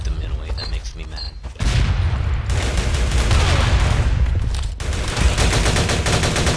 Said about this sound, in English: Man, somebody using a shotgun